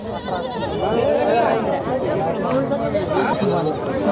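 At a goat and sheep market in Sangola, sheep bleat repeatedly with wavering, overlapping cries amid a crowd of nearby voices talking throughout.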